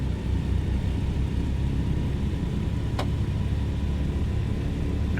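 A Douglas DC-3 taxiing in Microsoft Flight Simulator 2020, its piston engines giving a steady, droning rumble with a throbbing low hum, constant throughout, with one faint short click midway.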